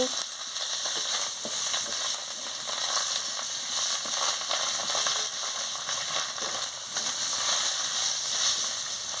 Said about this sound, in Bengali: এবার মশলাটা ভাজা হয়ে গেছে